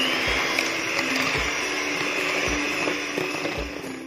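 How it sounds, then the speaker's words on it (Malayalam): An electric beater whips white forest cake batter in a bowl, a steady continuous motor whir with faint rhythmic knocks against the bowl, close and alone. "അപ്പം ഇനി നമുക്ക് നന്നായിട്ട് ഇനി ബീറ്റ് ചെയ്തെടുക്കുക."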